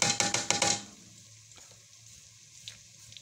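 Garlic hits hot oil for a daal of mashed dried beans, a loud brief burst of sizzling that quickly settles to a faint, steady crackle.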